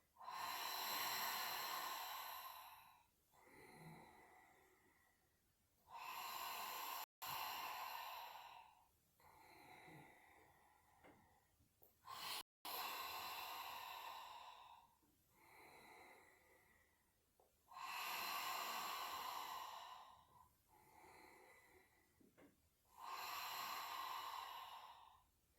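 Someone breathing out forcefully and then inhaling during an exercise routine, long airy exhales repeating about every five seconds, close and clear with no talking.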